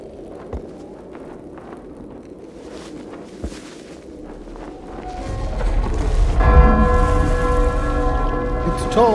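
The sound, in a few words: bell tolling in video game Eclipsium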